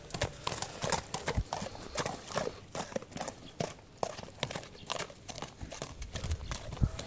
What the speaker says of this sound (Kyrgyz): аттын баскан турганын байкап турсаңыздар